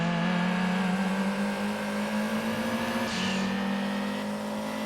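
A fast race car in a video game with a Japanese build revs hard, a steady loud engine drone with one gear shift near three seconds, and no speech.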